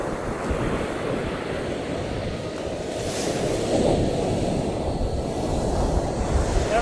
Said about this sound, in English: That's the Pacific Ocean right there.